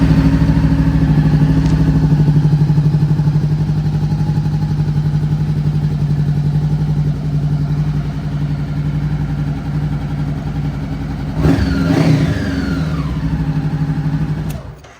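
A 2017 Honda CBR500R motorcycle, just repaired, starting and settling into a steady loud idle, then a sharp rev near the end before dropping back, heard close with no talk.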